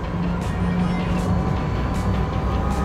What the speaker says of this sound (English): There's no artificial noises. This, these are the real noises the car makes.